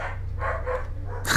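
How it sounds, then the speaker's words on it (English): A dog barking a few times in quick succession, muffled and somewhat distant, over a low steady hum, ending in a louder burst of noise. "apologies for the dog barking"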